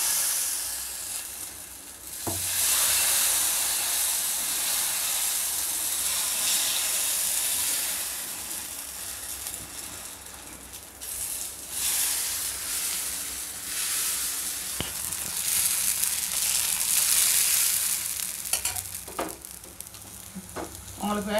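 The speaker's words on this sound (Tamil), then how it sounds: "இப்போ மாவு ஊற்றலாம்." Navadhanya dosa batter sizzles and hisses steadily on a hot griddle, a loud, continuous fry with occasional clinks and scrapes of a utensil.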